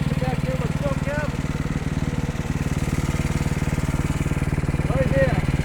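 An Ariens Deluxe 30-inch snow blower runs during a blizzard with a steady, rapidly pulsing engine chug close by, while a person's voice breaks in over it briefly now and then.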